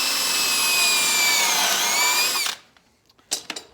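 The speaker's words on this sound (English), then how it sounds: "I take my drill and I just drill through here like this" A power drill whines loudly as it bores through a clamped wooden frame on a jig, the motor pitch sagging slightly before it stops abruptly, followed by a few faint clicks and a brief rattle.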